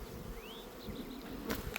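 Bees buzz in a dense, steady hum around an open hive during a summer check, close and continuous, with a few brief knocks and higher whines near the end.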